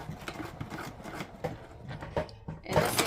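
A sewing machine runs in short bursts while back stitching a gusset seam, a close rattling buzz with brief stops and restarts, and a louder hissy rustle of fabric at the end.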